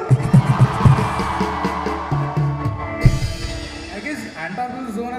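A youth crowd cheers at a 2015 choir competition, with loud, close shouts, whoops and chant-like calls that rise and fall in bursts over a busy roomful of voices.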